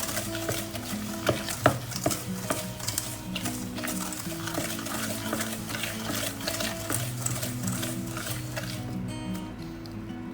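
Chocolate crinkle batter is mixed after one egg goes in, with steady rhythmic whisking and scraping against a bowl. The sound continues close and moderately loud throughout, with no talk over it.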